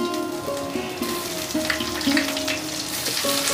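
Ginger paste and tomato fry in hot oil with a bay leaf, dried red chili and radhuni, giving a close, steady sizzle with light stirring sounds and a faint low hum running underneath.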